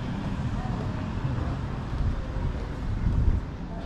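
Wind blows steadily across an open outdoor area in Mactan Newtown, Lapu-Lapu City, Cebu, with a low rumbling buffet on the microphone that swells slightly toward the end.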